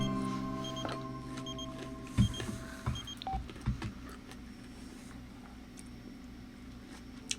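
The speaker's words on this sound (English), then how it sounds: "That sounded like a sad phone call." A short run of telephone keypad dialing tones, several distinct beeps in quick succession over a low hum, followed by quieter background, no speech.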